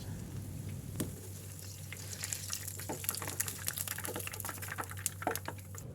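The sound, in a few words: potato dough sticks frying in oil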